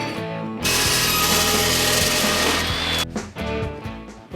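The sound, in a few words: cutting off a piece of steel tubing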